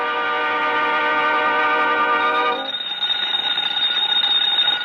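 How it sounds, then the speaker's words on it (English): A smoke alarm rings loud and continuous with a harsh electronic tone, and its pitch shifts midway through. "Clark, it's not the phone, it's the smoke alarm."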